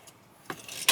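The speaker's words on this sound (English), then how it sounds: "And finally I removed the keys, and we are good." Keys pulled from a van's ignition, a brief close metallic jingle and click after a quiet pause, followed by a short second jangle.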